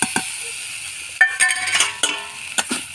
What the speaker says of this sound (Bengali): মশলাটা কষে নেব